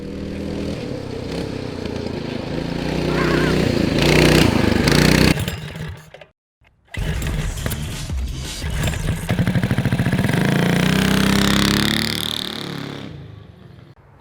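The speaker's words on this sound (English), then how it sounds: "is Charles's personal Coleman CT200U-EX, and it's powered by a blown-up Snowblower engine with billet parts in it." A Coleman CT200U-EX mini bike fitted with a blown-up snowblower engine swapped to a Tillotson 212 runs loud and close, its rough single-cylinder roar rising and falling with revs and breaking off briefly midway before restarting.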